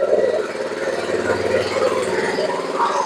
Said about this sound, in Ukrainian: Даю оберти. І даю навантаження.